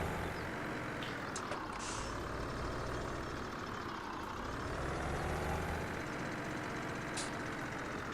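A six-wheel-drive truck in Farming Simulator 17 drives along with a steady, continuous engine drone that stays loud and even throughout, with no talking over it.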